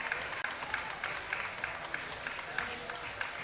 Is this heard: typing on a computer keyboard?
no